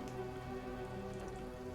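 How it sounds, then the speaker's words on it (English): Steady soft rain patters against window glass, a continuous even hiss with no distinct drops standing out, heard from indoors without voices. "Sound of rain outside on the windows."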